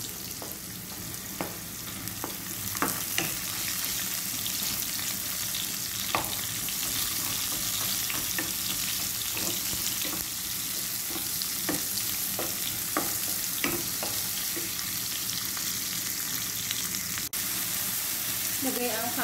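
Onions sautéing in a pan for squid adobo, giving a steady sizzle and frying hiss throughout with occasional scraping stirs, heard close with little talk.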